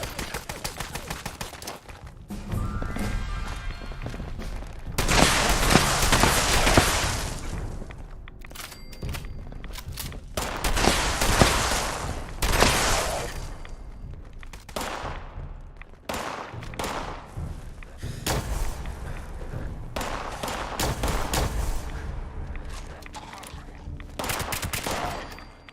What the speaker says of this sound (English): Mind letting me get the first shots in, guys?